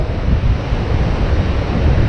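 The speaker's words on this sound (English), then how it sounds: "And this one more like 20 mile-an-hour winds." Strong wind of around 20 mph roars across the microphone on a beach while surf breaks continuously underneath, a loud, unbroken wash with no voices.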